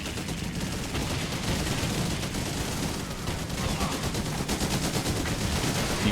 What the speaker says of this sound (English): Our troops are under fire.